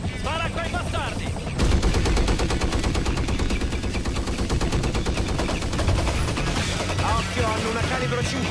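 Rapid automatic gunfire in the video game Far Cry 5 erupts after a short stretch of shouting, then rattles on in dense, sustained bursts close and loud, with voices calling out over the shooting.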